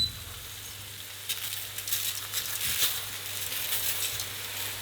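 Tomato sauce sizzling and reducing in a paella pan for Valencian paella, a steady close hiss with a low background hum and a faint clink partway through, no voices.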